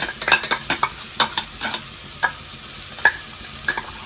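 Tomato sauce and garlic stirred in a hot pan for a prawn and greens dish, with close, crisp scraping strokes of a spoon in an irregular rhythm over a light sizzle.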